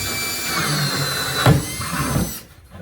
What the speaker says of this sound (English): I'm going to drill this one out right over here in this other flat spot.